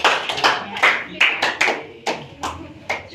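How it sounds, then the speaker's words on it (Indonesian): A small group claps for a class group, close and irregular, with about a dozen loud separate claps over a few seconds and no continuous applause roar. "ayo beri aplaus untuk kelompok"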